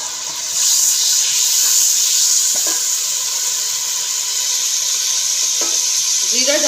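Cumin seeds hitting hot oil in a pot give a sudden loud, steady sizzle and hiss that keeps on, with light stirring clinks now and then.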